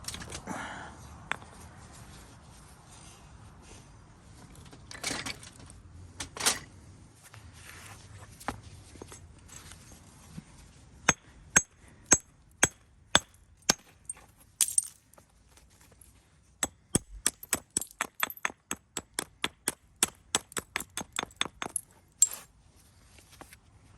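A hammerstone and copper tool strike Buffalo River chert while flintknapping, giving sharp, clicking impacts that start sparse and then come in quick, dense runs of bright taps.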